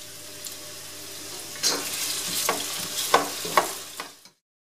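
Potatoes fry in a pot on a gas stove over medium-high heat, a steady close sizzle with a few sharp clacks of stirring near the end before the sound cuts off.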